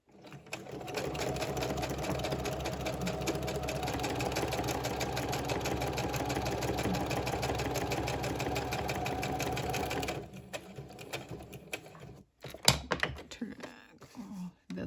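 A sewing machine runs a straight stitch on a craft tag in one continuous fast whirring burst that stops abruptly after about ten seconds, then gives way to fabric handling noises and clicks, up close.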